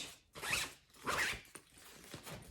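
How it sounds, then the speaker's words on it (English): Zipper on a Thirty-One fabric travel packing cube, pulled in two quick, close rasping strokes followed by a few softer short zips. "They zip all the way around."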